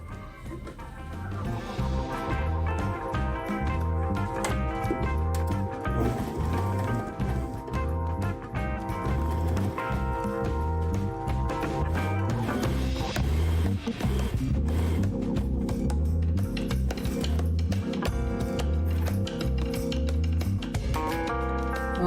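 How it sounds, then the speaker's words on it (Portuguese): A sewing machine runs steadily while stitching the second shoulder seam of a loose dress, a loud, close mechanical chugging with a fast regular rhythm lasting the whole stretch, with no talking. "Agora eu vou costurar o outro ombro,"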